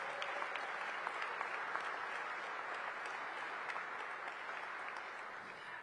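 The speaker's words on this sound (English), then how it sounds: "Let's give Ted and Monumental Sports a big round of applause." A crowd at a Washington, D.C. event with Mayor Bowser applauds Ted and Monumental Sports, a steady, even round of many hands clapping, quite faint and distant throughout.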